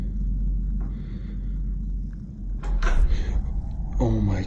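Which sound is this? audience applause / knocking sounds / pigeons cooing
knocking sounds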